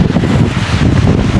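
Strong gusty wind during rain and a cold spell on a hike in Germany, a loud, close roaring rush buffeting the microphone steadily, with no speech.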